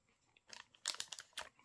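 Someone bites into a white-chocolate-coated peanut butter protein wafer crisp with a foamy center, giving a few close, sharp crunches in quick succession, quiet and with no talking.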